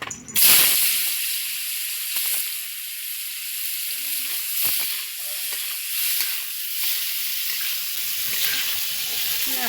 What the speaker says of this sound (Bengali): একটু কড়াই ফ্রাই করে নেব।